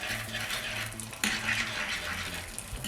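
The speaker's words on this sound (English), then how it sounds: "Just going to stir it around slightly." Egg frying in salami fat in a pan while being stirred, a steady hissing sizzle with a scrape of the utensil partway through, close and moderately loud.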